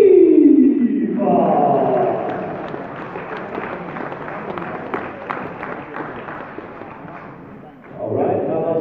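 Audience applause at the IPF Open World Powerlifting Championships 2015, a dense wash of clapping and crowd noise that starts loud, holds steady through the middle, then swells again near the end, with an announcer's voice over the opening.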